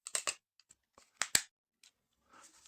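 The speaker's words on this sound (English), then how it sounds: "So that's how you load the CO2." A CO2 cartridge being loaded into a Crosman Vigilante CO2 revolver, heard as a few sharp metallic clicks and snaps in two bursts, with a faint rustle near the end and no talk.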